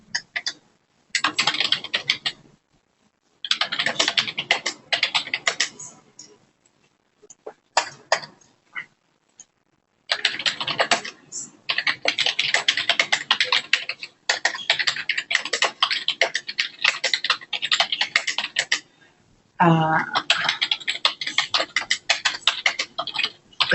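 Rapid clicking of computer keyboard typing in bursts separated by short pauses, close and fairly loud, with a brief faint tone near the end.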